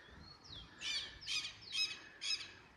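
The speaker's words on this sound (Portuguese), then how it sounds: "Toda hora a gente é um passarinho diferente que canta aí." Birds calling outdoors beside a pond in the São José Abdon Batista countryside, a few short, bright squawking chirps in quick succession over faint background ambience.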